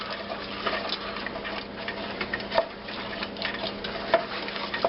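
A spoon working through thickening cheese sauce in a pan for a Philly deer steak sandwich, giving a steady low scraping and stirring bed with a faint sizzle and a couple of sharper clinks, alone without talk.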